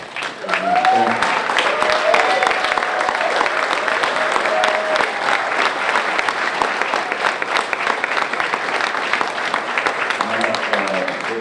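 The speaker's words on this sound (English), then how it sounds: "please stand one more time and let us applaud you" A standing audience at the UDC Hall of Fame awards ceremony gives steady, loud applause lasting over ten seconds, with a brief voice rising above the clapping near the start and again near the end.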